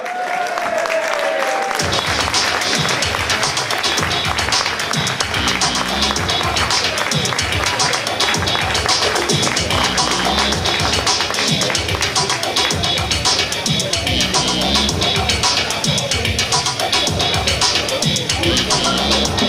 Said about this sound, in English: Let's see a big round of applause for Andreas Cockanu.